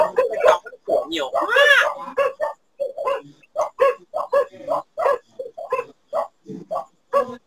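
Dogs bark in a long run of short, yappy bursts, some whining and high-pitched, coming close and loud with brief gaps between them.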